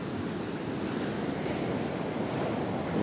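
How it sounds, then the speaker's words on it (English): Big sea waves breaking on Redcar beach on New Year's Eve, a continuous loud roar of surf mixed with heavy wind buffeting the microphone, no voices. "some quite big waves out there"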